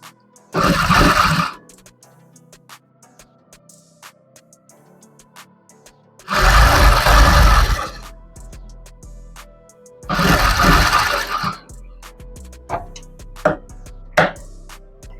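A sewing machine stitching a blouse lining runs in three separate loud bursts of about one and a half seconds each, separated by quiet pauses with light handling clicks.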